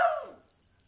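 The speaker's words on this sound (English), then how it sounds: "For my dog barking in the background." A dog gives a single short bark or yip in the background that trails off quickly, moderately loud with no speech around it.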